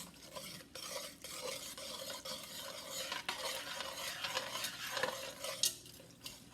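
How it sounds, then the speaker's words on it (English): Tomato paste sizzling in oil on medium-low heat while a spoon stirs and scrapes the pot, a steady, quiet fry with occasional utensil clinks close by. "Just make sure you get all the tomato paste distributed with the oil."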